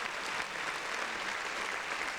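A studio audience on a podcast claps in a continuous, even burst of applause that stays at constant loudness throughout, with no talking on top.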